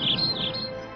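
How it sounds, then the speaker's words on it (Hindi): A short burst of small birds chirping nearby, a few quick high tweets fading within a second, with no voices. "पंछियों की चहचहाट"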